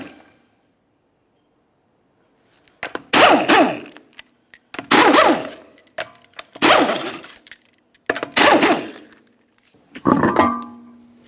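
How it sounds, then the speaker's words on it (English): An impact wrench loosening 19mm lug nuts on a 2003-2007 Honda Accord front wheel, giving five loud, close bursts of rapid hammering, each about a second long and separated by brief pauses, following a stretch of near silence. "continue on to removing all 5 of your 19mm lug nuts and then the wheel"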